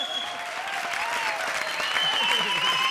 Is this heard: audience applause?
yes